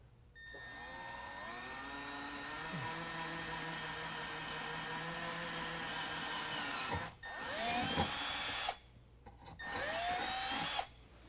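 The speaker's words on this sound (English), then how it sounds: "I've got my 1/8 inch drill bit." A 1/8 inch drill bit tipped with cutting oil bores a hole during a running-board step install on a 2020 Ram 2500, giving a steady loud whine for about seven seconds, then two shorter bursts separated by brief pauses.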